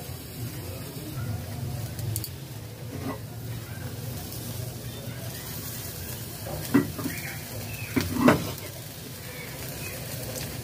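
A brinjal roasts and is turned over an open flame, giving a low steady hiss and faint crackle with a few soft knocks as it is moved, while a person speaks quietly.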